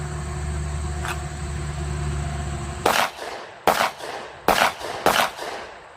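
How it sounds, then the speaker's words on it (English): Four sharp, loud 10mm pistol shots from an FN 510 Tactical fired at 7 yards, coming in two quick pairs after a steady background hum, each crack followed by a short echoing tail. "we're only at 7 yards here, so these are pretty much chip shots"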